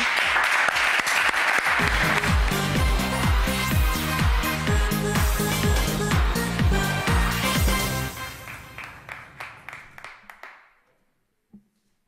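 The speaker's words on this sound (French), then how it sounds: "alors on applaudit très très fort" Audience applause on a French television talent show, loud clapping and cheering over rhythmic music for about eight seconds before fading into scattered claps and silence.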